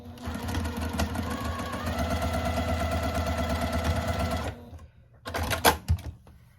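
A sewing machine backstitches a quilt seam with a steady close whirring hum and rapid needle clatter for about four seconds, then stops, followed by a short burst of clicks and handling noise.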